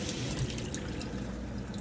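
Tap water runs steadily into a glass or shaker for swirling up a green drink with collagen and chia seeds, a continuous close splashing stream with no talk.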